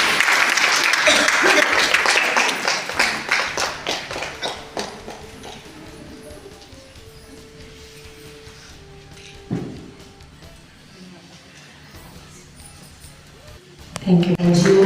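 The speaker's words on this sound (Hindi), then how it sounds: "जोरदार तालियों से अभिनंदन।" At a women's honouring event in a Mehrauli school, an audience breaks into loud, dense applause that fades over several seconds, followed by quieter thumps and room noise, with a voice returning at the end.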